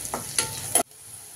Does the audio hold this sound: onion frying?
yes